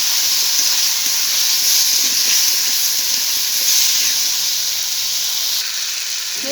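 Potatoes fry in spiced oil in a pan for a jhol tarkari, giving a steady close hiss and sizzle that holds evenly throughout with no voices.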